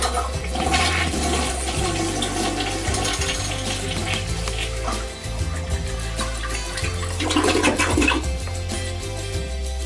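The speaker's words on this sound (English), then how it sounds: "we're going to flush the toilet because we want to try to get as much water out of it as we can" A toilet flushes loudly with a surging rush and gurgle of draining water, then settles into a quieter hiss of refilling, heard close up and alone while the toilet is being emptied before fitting a Medway toilet riser.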